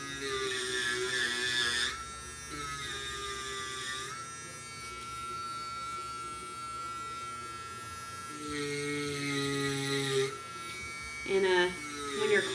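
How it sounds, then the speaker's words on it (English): Dremel rotary tool carving and churning pumpkin flesh, a whining high buzz that starts and stops in bursts, with a voice talking in between. "when you're carving with the Dremel tool, it churns the pumpkin flesh into kind of like a paste"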